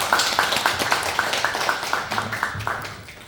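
A church congregation at a revival service claps to welcome a pastor to the pulpit, with steady, rhythmic group clapping that fades slightly toward the end.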